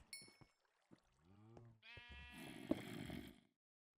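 Sheep in the Minecraft video game bleat several times in a row, the calls close, clear and fairly loud, with no talking.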